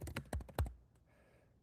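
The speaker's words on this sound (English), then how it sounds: "I'm still typing. I'm still typing." Rapid, close clicks of typing on a computer keyboard, a burst of keystrokes followed by a short pause and one more tap.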